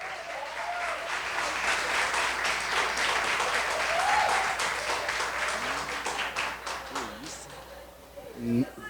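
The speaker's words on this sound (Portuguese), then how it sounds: "Aplaude mais alto, irmãos." Sustained church congregation applause fills the space, steady and fairly loud, with a few voices calling out underneath as it fades slightly near the end.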